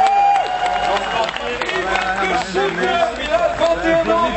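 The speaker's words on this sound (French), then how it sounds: "On l'applaudit bien fort!" Crowd applause at a wrestling event for wrestler Konstantin Pikine, steady dense clapping under a loud announcer's voice over the PA.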